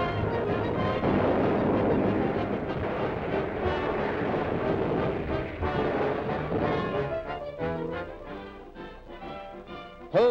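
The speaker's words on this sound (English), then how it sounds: "Oil tanks explode, the Marshall Islands aflame." A 1941 naval bombardment of the Marshall Islands, with oil tanks exploding, is a dense, continuous rumbling roar of blasts. Tonal music rises toward the end.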